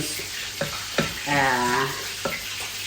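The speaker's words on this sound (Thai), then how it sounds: "คราวนี้เราก็เอามากลับด้านนะคะ มาคนนะ" Sticky rice steamed in a microwave being turned and stirred, with a few sharp scraping and clacking strokes and a brief sizzling, crackling stretch in the middle, close and fairly quiet.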